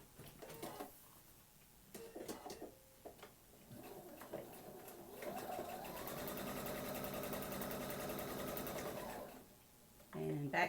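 Sewing machine back-stitching a paper-pieced quilt house block seam: a steady, close mechanical whir runs for several seconds, starting and stopping, with brief clicks and handling noises around it and a voice speaking at the start.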